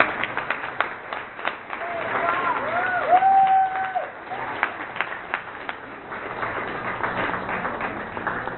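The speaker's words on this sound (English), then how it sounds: "please, a nice round of applause for Brock McIntosh" An audience at a memorial celebration for a soldier and peace activist breaks into moderate applause for a speaker, scattered claps with crowd murmur and a brief tonal squeal in the middle, fairly distant.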